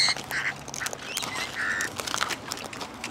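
Wild Australian birds call close by in a mob, with repeated harsh, squawking and quacking notes over a busy background of rustling and chatter.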